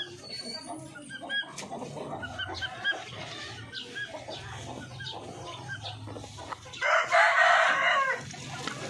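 Orpington hens cluck steadily under a farmyard din, then a rooster crows loudly near the end, with some talking in the background.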